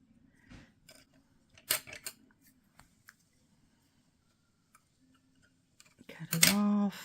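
Scissors snip through Christmas cardstock in a few short, crisp cuts, each a quick isolated snap, before a brief voice cuts in at the end.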